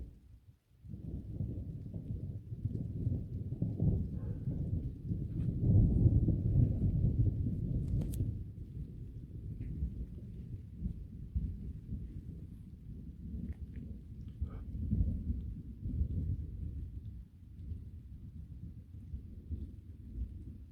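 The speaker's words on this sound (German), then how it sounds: "Steht jetzt hier wieder ein neues Gewitter an oder was?" Thunder from a surprise night thunderstorm with strong lightning strikes: a long, deep rumble that swells and rolls for about twenty seconds, loud and heavy, with no talking.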